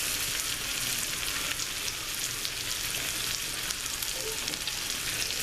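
Pork chops and onions sizzle steadily in a pan as they are turned over, a loud, dense frying hiss that runs unbroken with no voices.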